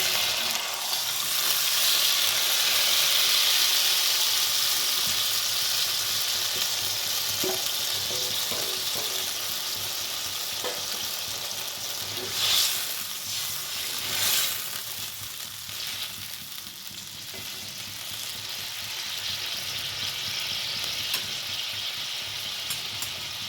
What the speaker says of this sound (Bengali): আদাটা কষে গেছে, এবার আমি সেদ্ধ করা লাউ দেবো।